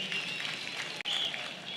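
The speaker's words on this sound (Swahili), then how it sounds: "Wapigie makofi jameni." Crowd applause in Kinoru Stadium, Meru County, during Madaraka Day celebrations: a wide, moderately distant wash of clapping with a brief dip midway, and a faint voice under it.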